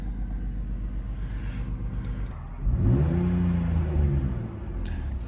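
BMW E46 engine running steadily as the car drives, a continuous low rumble that rises with a revving, whirring note midway, close and loud with no talk.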